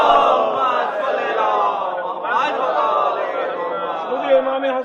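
Congregation at a Shia majlis reciting salawat together, a dense, steady blend of many voices chanting loudly and continuously throughout.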